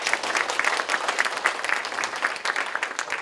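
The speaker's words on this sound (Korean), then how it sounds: "여러분 박수로 한번 나누겠습니다." Audience applause at a lecture for an innovation academy special talk, a steady wash of many hands clapping throughout, fairly close and continuous with no voices over it.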